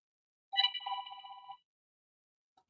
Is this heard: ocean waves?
no